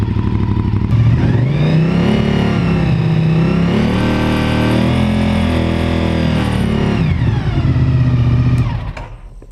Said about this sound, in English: We'll fire up the bike.